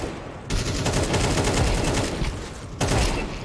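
Rapid automatic AK rifle fire in a Counter-Strike 2 deathmatch, loud close bursts of shots running almost continuously with a short pause near the end before another burst.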